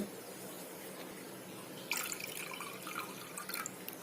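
Two cups of water splash and trickle into a pot for a herbal decoction, starting abruptly halfway through over a quiet background, with a few brighter splashes toward the end.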